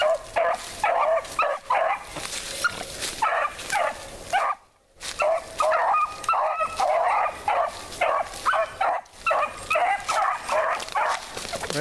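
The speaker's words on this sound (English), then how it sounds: "Reverend Arnold got to be proud of these four puppies." Four young puppies from a litter yip, bark and whimper in quick overlapping bursts throughout, close and fairly loud, with one brief pause midway.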